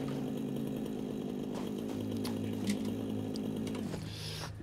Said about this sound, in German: Dann brauchen wir nochmal die Kettensäge wahrscheinlich.